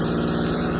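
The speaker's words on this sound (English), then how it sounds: "today I show to you the V8 engine model and this is the performance of this engine" A small V8 engine model runs steadily, a continuous buzzing drone with a fast regular pulse, loud and close throughout.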